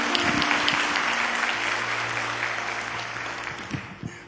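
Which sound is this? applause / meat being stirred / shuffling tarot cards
applause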